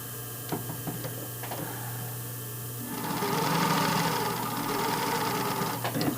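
A sewing machine stitching fabric: light ticking and brief starts at first, then a sustained close motor whir with rapid needle chatter for several seconds, ending in a few short bursts.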